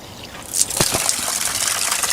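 Water pours from an outdoor spigot in a steady, fairly loud gush that starts up within the first second and then keeps flowing evenly, with no talking over it.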